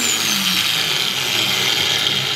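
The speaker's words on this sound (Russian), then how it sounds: "Подключил болгарку Протон к сети, хочу продемонстрировать вам работу и сам послушать." A Proton MShU-125/930 angle grinder runs idle with no load, giving a steady, loud, high-pitched motor whine that holds constant and close throughout, with no voices.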